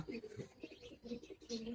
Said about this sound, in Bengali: এই কবুতর দুটা বাচ্চা কবুতর দুটা